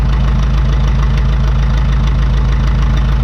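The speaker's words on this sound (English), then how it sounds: "There, that idle changed a little bit more. The RPM picked up some more." A 1952 McCormick Super WD-6 tractor engine idles close and loud, a steady rough chugging with a fast, even knocking pulse throughout and no talk.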